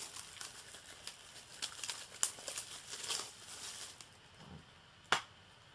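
Plastic wrap on a Blu-ray case crinkles and tears in quick close rustles and snaps, faint overall with one sharp crackle near the end.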